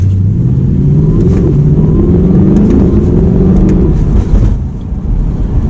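An Audi R8 V8 with a dual-clutch gearbox accelerates hard, its engine note climbing loud and close through rapid gear shifts, then easing off near the end.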